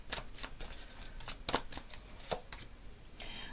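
Tarot cards being shuffled close by for a French psychic tarot reading, a series of crisp riffling snaps and soft slides at an uneven rhythm, with no talking.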